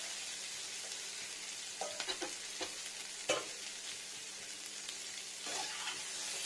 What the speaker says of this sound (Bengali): দেখুন মিডিয়াম টেম্পারেচারে এটা কষাবো ভালো করে।